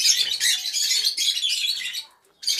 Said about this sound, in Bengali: এখানে এক জোড়া ককাটেল রয়েছে, একটা সিনামন ফিমেলটা আর মেলটা হচ্ছে গ্রে।